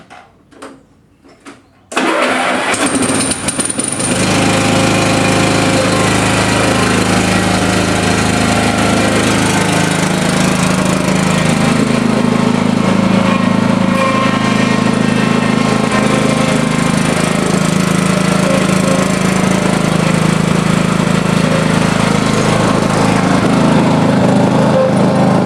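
Yamaha YT 3600 riding lawn mower engine cranking briefly, then catching and settling into a loud, steady, close rumbling run that continues without talk.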